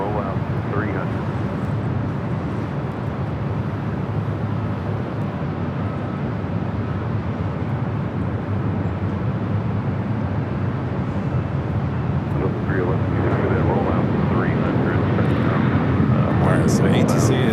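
An Emirates airliner, delivered in December 2019, rolls out on runway 24 left at Los Angeles International Airport, making a steady, loud jet roar and deep rumble that continues without a break and swells slightly toward the end.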